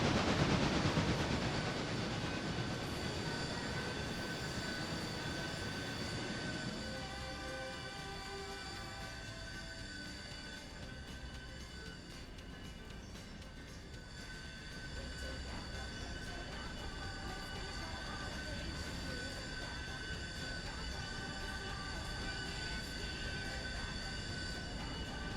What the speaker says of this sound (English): Trying to build a pure coal train here.